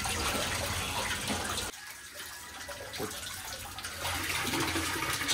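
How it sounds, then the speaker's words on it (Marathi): Raw chicken being washed by hand in a bowl of water on a home terrace, giving steady splashing and sloshing that briefly softens midway before swelling again, with no talking. "स्वच्छ असं वाट्या पाण्यात धुवून घेतं।"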